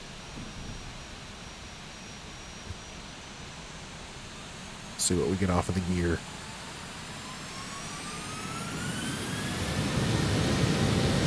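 CFM56 jet engines on a simulated airliner during a rolling takeoff, a steady broadband roar that builds and grows louder toward the end, with a brief burst of talk partway through.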